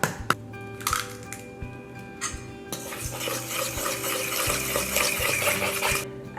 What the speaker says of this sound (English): I'm going to mix after each egg just to make sure it gets really well incorporated